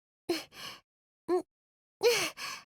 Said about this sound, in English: The heavy breathing climbing moans are fleshed out and have higher reference potential